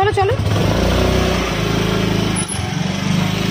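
A motorcycle engine runs with a steady low throbbing drone throughout, close by, while people talk over it.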